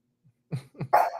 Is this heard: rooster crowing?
no